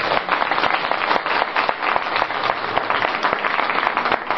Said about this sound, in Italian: io vorrei un applauso per Nando Romano